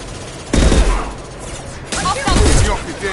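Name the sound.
gunfire in Mass Effect Legendary video game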